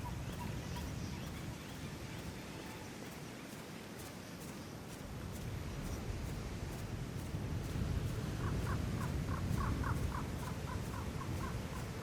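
Crows caw in a Hitman 3 level, a burst of repeated caws standing out over a steady broad ambient wash of wind and background noise.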